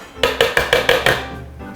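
Six quick metallic clinks ring out in a steady rhythm, like a utensil tapping against a pot's rim, close and clear, as strawberry mixture is transferred into a cooking pot.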